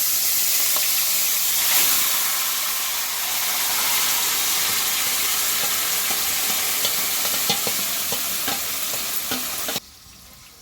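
Chicken pieces frying in spiced masala in a pan, a steady close sizzle with soft stirring and scraping over about ten seconds before cutting off abruptly.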